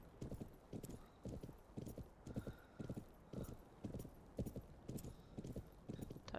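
Horse hooves clip-clopping at a steady walking rhythm while riding in the video game Planet Horse, evenly spaced thuds, fairly quiet, with a faint voice in the background.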